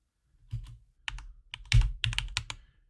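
Bursts of computer keyboard typing during a server lab session, irregular clusters of clicks and key presses, fairly close and alone with no talk.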